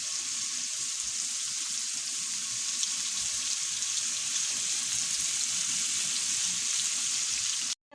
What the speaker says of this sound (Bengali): ডালটা ধুয়ে রাখছি।